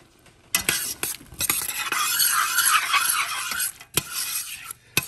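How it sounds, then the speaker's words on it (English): Vegetables and minced garlic sautéing in melted butter in a pan give a steady, close sizzle broken by sharp utensil stirs and scrapes against the pan, with no talking. "I'm gonna saute my vegetables in this butter, and I'll be right back"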